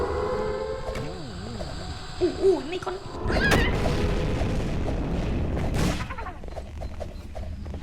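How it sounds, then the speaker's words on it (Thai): Warbling electronic tones give way to a sudden heavy video game nuclear bomb explosion boom, followed by a long rumbling roar that slowly fades out. "มันเป็นระเบิดนิวเคลียร์เลย"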